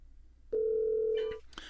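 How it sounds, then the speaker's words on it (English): Outgoing Bluetooth phone call dialing through a Pioneer NEX car stereo receiver: a single steady dial tone sounds loudly for almost a second alone, then breaks into a short burst of higher connection tones. "I'll just touch his name on the screen here and confirm that's the correct number to make that call"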